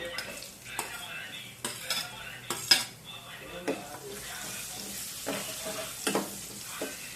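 Beetroot being stirred in a cooking pan over spiced tempering: repeated scraping strokes of a spoon against the metal pan, each followed by a soft sizzle, with clinks at intervals and no talking.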